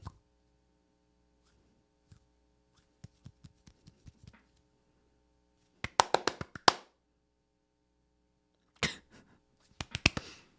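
Hands clap alone in a quiet room: a few soft scattered taps at first, then a quick run of sharp, loud claps, followed by two shorter bursts of clapping.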